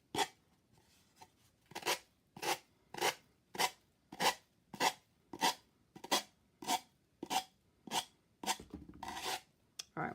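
A sanding block rasps across dried Mod Podge edges in short, regular strokes, about a dozen crisp scrapes at an even pace, close and clear with no talk.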